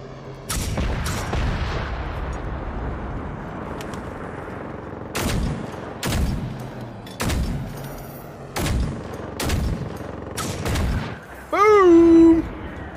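Gunfire in the video game Generation Zero: a series of sharp, loud shots spaced a second or so apart, about eight in all, followed at the end by a ringing metallic tone.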